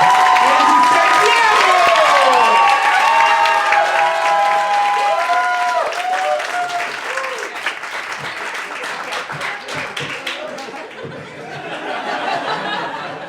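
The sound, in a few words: audience clapping and cheering at a comedy club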